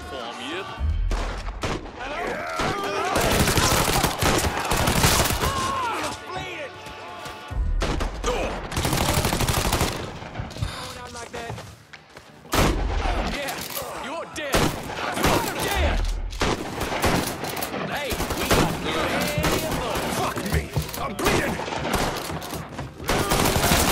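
Heavy gunfire from a Mafia 3 shootout, with dense bursts and rapid volleys of shots running almost continuously and loudly, broken by brief pauses, while voices shout over the fighting.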